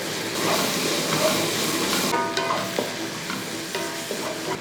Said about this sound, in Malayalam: നല്ലപോലെ ഇളക്കി കൊടുത്ത് സവോള നമുക്ക് ഒരു ചെറുതായിട്ടൊരു ബ്രൗൺ നിറമാകണം കേട്ടോ